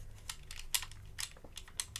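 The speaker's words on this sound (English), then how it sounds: "Let's see if you can hear some button tapping." Close, crisp clicks of buttons tapped on a game controller, picked up by a Fifine Ampligame streaming microphone with its gain turned all the way up, come in an irregular series of quick taps over faint background hiss.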